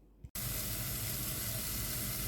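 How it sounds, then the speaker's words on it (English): Onions sizzle in a pan, a loud, steady hiss that bursts on after a brief quiet moment and holds without a break. "This has been sizzling away for a few minutes and the onions have started to soften."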